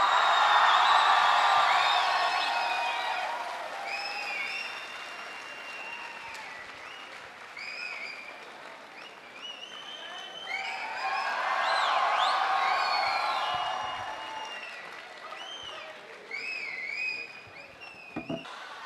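A large audience at Islamia University Bahawalpur applauds to welcome writer Khalil ur Rehman Qamar: dense, sustained clapping mixed with whistles and cheers, swelling again midway before tapering off.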